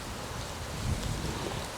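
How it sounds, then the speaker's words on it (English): Wind buffets steadily around a campfire with a low rumbling roar, swelling into a stronger gust about halfway through before easing back to a constant blustery background. "when you have gusts of wind like we just did"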